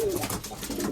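Racing pigeons bred for short-distance flights coo close by, a brief low throaty call over a soft rustling background, with faint speech.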